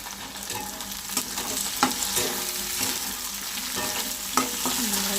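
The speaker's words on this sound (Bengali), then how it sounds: "টমেটোটা ভালো করে ভাজা হয়ে যায়।" Tomato frying with onion and garlic in a pan gives a steady close sizzle, broken by a few sharp clinks and scrapes as it is stirred, with no talking.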